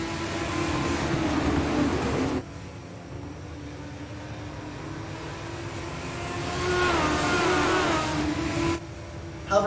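A legends race car engine in the iRacing sim drones loudly through a restart launch, rising in pitch as it accelerates, with abrupt cuts in the sound at a couple of points.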